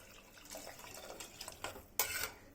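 Hot water is poured into a pot of dal tadka. A faint, splashy gush rises and falls in short bursts, with a stronger splash toward the end.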